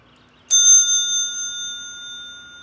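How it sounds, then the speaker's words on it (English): A single sharp ding from a bicycle bell rings out clearly and alone, its bright metallic tone sustaining and slowly fading over two seconds. "The bell scares the shit out of anyone who hears it"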